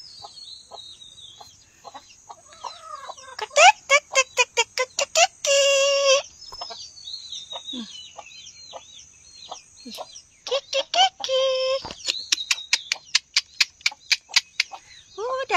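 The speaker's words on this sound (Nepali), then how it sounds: "अब म तपाईहरुलाई मेरो कुखुराको खोरमा कुखुरो" Local chickens in a coop give close, repeated clucks and sharp squawking bursts, some in quick rhythmic runs, with softer chirps between them and no talking.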